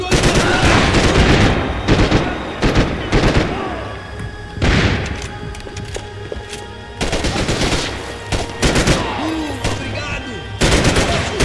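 Heavy automatic and single gunfire in Max Payne 3, repeated loud bursts and booms separated by short lulls, with shouted voices in between.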